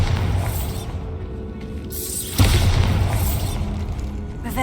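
A Bombarda blasting spell explosion in a Harry Potter video game: a sudden heavy boom with a shattering burst midway, following a dull rumbling ambience and fading into lingering debris noise.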